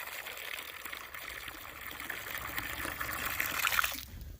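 Water pours steadily from a container into a livestock waterer on a winter farm, a soft, continuous trickling splash that grows a little louder before stopping abruptly near the end.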